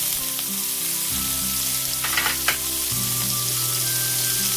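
Green chili, onion and capsicum frying in a pan for egg chow mein give a steady loud sizzle, with a few stirring scrapes partway through over a constant background hum; no voices.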